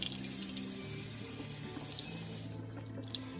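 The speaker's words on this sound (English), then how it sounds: "So I'll do the cool water, a really good rinse." Cool tap water runs steadily into a sink as handspun sheep's wool yarn singles are rinsed, a close, continuous splashing rush with a low hum underneath and no talk.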